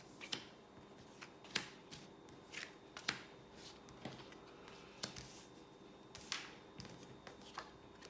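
Tarot cards shuffled and laid out one by one, a series of sharp close card snaps and flicks spaced about a second apart over a quiet room hiss, with no talk.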